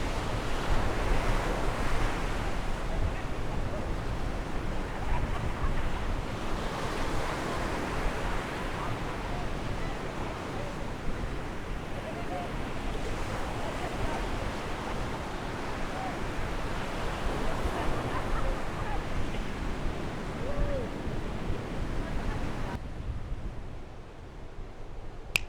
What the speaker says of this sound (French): il n'y a jamais eu autant de vent dans l'endroit où je suis